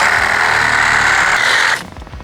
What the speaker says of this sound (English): we're gonna take this sawzall and we're gonna saw it off.